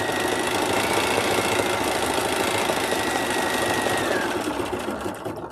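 A sewing machine fitted with bunny-shaped presser feet stitches steadily, a fast, even mechanical chatter that runs loud and continuous, then eases off slightly near the end.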